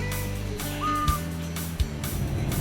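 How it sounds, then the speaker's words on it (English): Birds call from surrounding jungle at daybreak, a scatter of short chirps and one drawn-out whistle over a steady low hum, with two brief knocks standing out, moderately distant. "birds singing a concert of sounds from the surrounding jungle"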